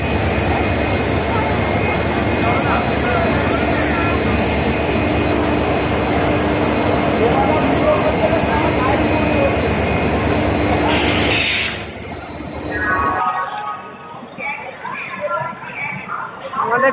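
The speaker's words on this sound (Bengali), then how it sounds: "আমাদের ট্রেনটি প্রবেশ করছে।" Tamralipta Express pulling into a station, a loud steady rumble of wheels and rail noise with a high whine, filling the platform for about twelve seconds before it cuts away to quieter ambience with voices.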